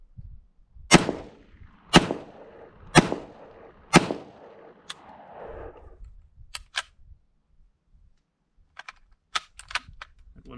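A new JK Armament gun fires subsonic rounds without a suppressor, four sharp loud shots spaced about a second apart, then a fifth weaker report, followed by clicks and metallic handling sounds as the action is worked.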